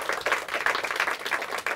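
A studio audience claps for a quiz team in a Hindi quiz round, steady dense applause from many hands that carries on throughout, close and fairly loud.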